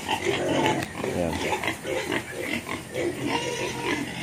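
Pigs recovering from illness grunt continuously in a pen, a close, loud and dense layer of low grunts and snorts running throughout with no gaps.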